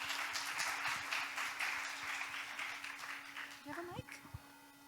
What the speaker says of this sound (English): Well, a round of applause for Guillermo.